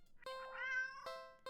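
A cat meows in a video game, a few short calls plus one drawn-out harmonic meow, close and clear with no talking.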